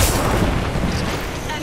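A tank's main gun fires in a video game, a single heavy boom whose rumbling tail lasts through the whole short stretch, loud and close, with no talk over it.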